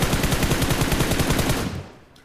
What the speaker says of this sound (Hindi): अब वो भी गुनाह कर दिया मैंने गोली चला के